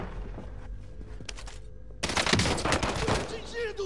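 Gunfire in the Call of Duty Modern Warfare video game on PS4, scattered distant shots giving way to a loud burst of rapid automatic fire in the second half.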